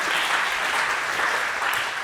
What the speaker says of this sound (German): Einen großen Applaus nochmal für Nico.